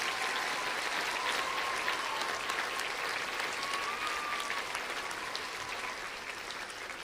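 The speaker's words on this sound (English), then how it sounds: "So if you could give them a round of applause," Steady audience applause for the set builders at a school play, a murder mystery production; a full room claps continuously at moderate distance, slowly easing off toward the end.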